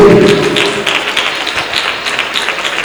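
Church congregation clapping hands during prayer and praise worship, a loud, steady run of fairly even claps in a room, with a brief tonal sound at the start.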